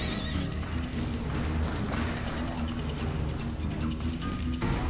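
Horse hooves clip-clop steadily alongside loud neighing and whinnies in the Call of Juarez western video game, with game music and ambience running underneath.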